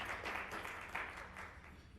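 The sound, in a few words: audience applause at chamber of commerce luncheon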